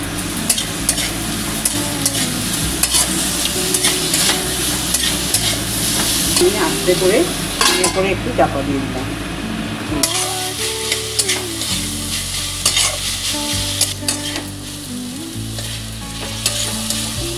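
Minced chicken sizzles in a pan with tomato and ginger paste, stirred steadily with constant frying crackle close by; a voice speaks briefly over it.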